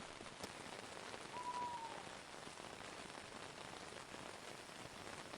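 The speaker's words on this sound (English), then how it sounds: "the rain softens slightly, not stopping, just settling into a quieter, more distant presence" Soft, steady rain pattering on a surface, a continuous gentle hiss at low volume with no voices.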